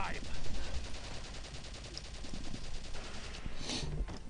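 Gunfire in the tactical video game Valkyria Chronicles, a steady burst of rapid shots running under speech and game sounds, with a brief brighter hit near the end.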